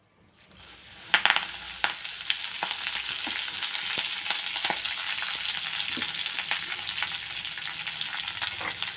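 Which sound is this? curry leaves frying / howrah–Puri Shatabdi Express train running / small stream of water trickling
curry leaves frying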